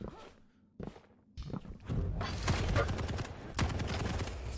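Rapid weapon fire during a Quake Pro League duel match, with sharp repeated shots and footsteps building from quiet bursts into a dense, loud volley.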